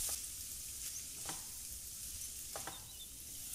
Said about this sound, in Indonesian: Kemudian ini kita aduk-aduk dan tumis sampai kira-kira daging sapinya berubah warnanya menjadi pucat.